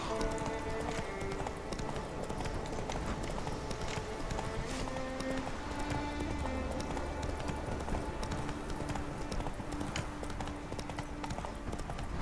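A horse gallops in The Witcher 3 video game, with rapid, even hoofbeats continuing throughout over soft game music tones.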